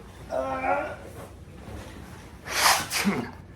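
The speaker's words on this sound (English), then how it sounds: "I need to blow my nose" Someone blows their nose in a short, noisy burst after a brief murmur of speech, close and fairly quiet.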